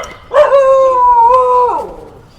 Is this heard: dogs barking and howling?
yes